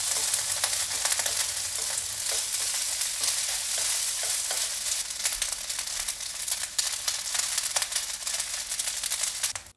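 Steady, dense sizzling of yakisoba noodles frying in a hot pan and turning crispy, crackling continuously throughout with small pops, no voices.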